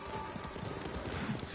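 Horse hooves clip-clopping in Ghost of Tsushima, a steady run of soft hoof falls under a low game soundscape, while a voice speaks faintly in the background.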